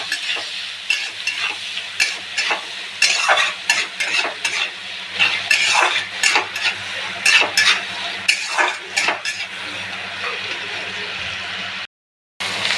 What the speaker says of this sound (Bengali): এখন সব উপকরণ একসাথে ভেজে নেব